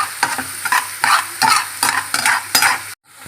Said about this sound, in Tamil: வெங்காயம் நல்லா வதக்கியாச்சு.